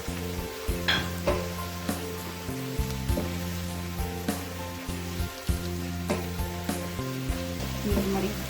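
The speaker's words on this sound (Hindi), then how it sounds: "अब इसमें ऐड करेंगे गाजर। इसे थोड़ा सा फ्राई करेंगे।" Carrots fry in a pan with browned onions, a steady close sizzle broken by the regular scrape and clatter of stirring throughout.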